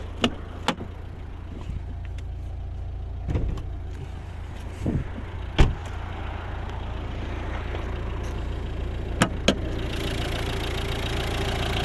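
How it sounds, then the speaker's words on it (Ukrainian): A 2011 Volvo V60 1.6 D2 diesel, 115 hp with a single camshaft and eight valves, idles with the hood closed, giving a steady low hum with a few sharp clicks and knocks scattered over it, and no voices. "Як працює наш знаменитий розповсюджений двигун"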